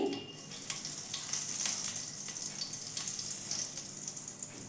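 Whole garam masala and cumin seeds hit hot oil in a kadai, giving a steady, soft crackling sizzle that runs throughout with no voices.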